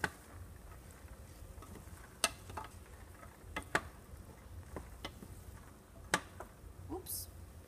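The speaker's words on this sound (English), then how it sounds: "So right now I'm going to go ahead and add the peas. And stir everything in together." Peas are stirred into baby zucchini in a pan, giving quiet scattered clicks and taps of a utensil over a faint, low sizzle.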